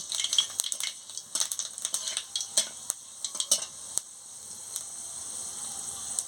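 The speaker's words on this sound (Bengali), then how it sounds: "আমি শুকনো লঙ্কার ফোড়নটা দিয়ে দিচ্ছি দিয়ে ভালো করে ভেজে নিচ্ছি" Dry red chillies frying in hot oil as a tempering for a chalta (elephant apple) chutney; soft crackling sizzle with quick scrapes and taps of a stirring utensil, close but fairly quiet, thinning toward the end.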